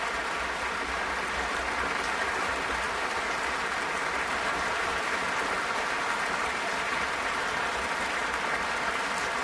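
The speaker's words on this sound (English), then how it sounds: "Alexievich, who receives a lot of applause here in the Stockholm Concert Hall." Sustained applause fills the Stockholm Concert Hall at the 2015 Nobel Prize award ceremony, a dense, even crowd of clapping hands that holds steady from start to finish.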